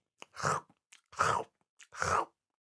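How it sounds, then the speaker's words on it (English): A goat munching on flowers: three short bursts of crunchy chewing, evenly spaced and close up, with quiet pauses in between. "the goat just stayed with its head in the flowers,"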